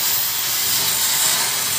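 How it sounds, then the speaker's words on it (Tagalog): A large industrial blower gives off a steady, loud broadband hiss, constant and close throughout with no pauses or talk. "Yung laki ng blower na to."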